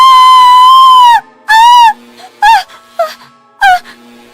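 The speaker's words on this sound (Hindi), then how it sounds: "नताशा जोर से चीखती है।" A woman's loud, dramatized screams as she receives an electric shock: one long sustained wail, then several shorter strained cries and moans in bursts, close and alone.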